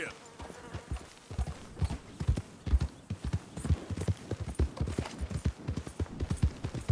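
A horse in Red Dead Redemption 2 gallops in a steady, rapid clip-clop of hooves, close and prominent, with occasional snorts and a voice speaking briefly over it.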